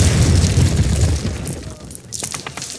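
A deep, loud explosion rumbles in the Call of Duty (2003) training level and slowly fades into a lingering low roar with scattered debris crackle near the end.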